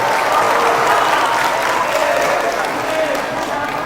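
An audience applauds inside a mosque, a dense, loud burst of clapping that holds steady for a few seconds.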